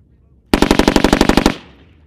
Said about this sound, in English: Send a burst when you're ready.